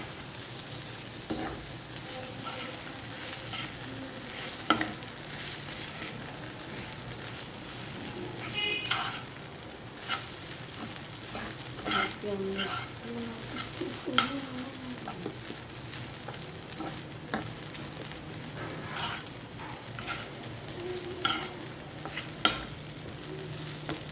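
Flattened rice frying in a pan with potato and onion, a continuous soft sizzle with intermittent stirring clinks and scrapes, close and fairly even over a long stretch.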